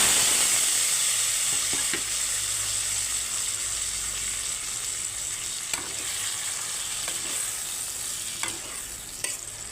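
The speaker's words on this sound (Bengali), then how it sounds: "কড়াই তেল দিয়ে দিয়েছি, আর এই চিংড়ি মাছগুলো এখন ভেজে নিচ্ছি।" Prawns coated in salt and turmeric fry in oil in a wok, giving a continuous close sizzle with a few faint stirring clicks and pops, no one speaking.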